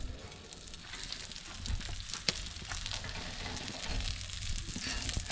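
Blackened kokanee salmon with dill and garlic sizzles steadily on a grill, a close, continuous crackling hiss with a few sharper pops.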